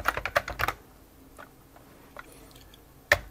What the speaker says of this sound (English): I typed my password into the login prompt.